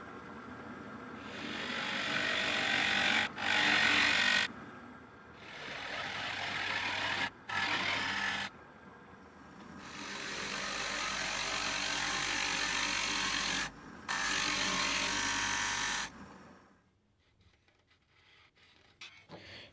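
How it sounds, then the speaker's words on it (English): A drill press fitted with a router bit cuts a divot into wood, giving several loud whirring, grinding bursts broken by short pauses before the machine winds down to quiet. "we're gonna take it to the drill press with the router bit. And this router bit will cut out a little divot there"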